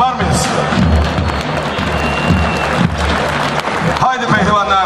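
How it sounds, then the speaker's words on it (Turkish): Crowd at an oil wrestling final in Elmalı Yeşilyayla applauding the head wrestlers, a loud outdoor wash of clapping and cheering with thumps, a voice speaking over it near the end. "Şöyle baş pehlivanlarımıza coşkuyla bir alkış yapar mıyız?"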